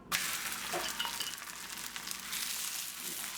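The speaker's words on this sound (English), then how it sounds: "fry this up. Okay, we're gonna flip it." An enchilada tortilla fries in hot oil with a constant close sizzle and crackle, with no talk.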